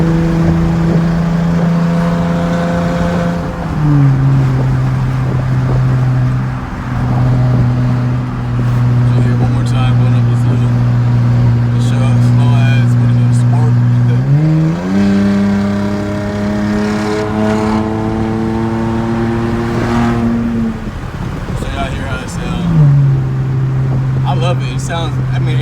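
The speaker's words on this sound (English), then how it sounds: "I'm gonna let y'all hear how it sounds going up. All straight pipe on a V6" A 2017 Dodge Challenger SXT V6 with straight-pipe exhaust and mid and rear mufflers deleted climbs a hill. A loud, droning exhaust note holds steady, then climbs in pitch through gear changes, heard from inside the car.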